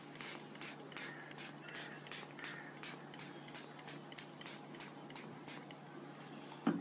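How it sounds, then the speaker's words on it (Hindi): Repeated short hissing bursts from a hand spray bottle misting water over soaked almonds laid on paper, a steady series of pumps close by with no talking. "एक स्प्रे से स्प्रे लेके इसके ऊपर एक पानी का स्प्रे कर देना है।"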